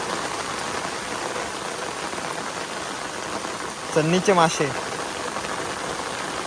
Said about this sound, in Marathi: पाऊस जोरात पडतोय बघा.